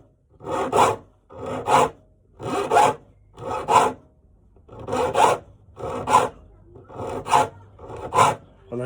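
A file rasps across handsaw teeth during sharpening, eight or so evenly spaced strokes in a steady rhythm, close and clear with short pauses between.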